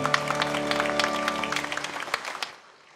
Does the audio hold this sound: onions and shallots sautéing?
no